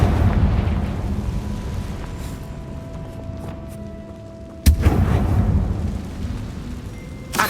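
A Confringo fire spell bursts in Hogwarts Legacy, a single sudden sharp blast midway through, set against a rumbling ambient background with fainter booms before it.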